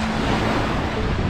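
Ocean waves wash onto a beach on the coast between Comporta and Tróia, a steady, close, rushing roar with no voices.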